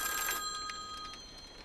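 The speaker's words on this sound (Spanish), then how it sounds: "El teléfono empezó a sonar a las 4:30 de la tarde" A telephone rings faintly in a quiet living room, a thin tone repeating in short bursts against soft background hiss.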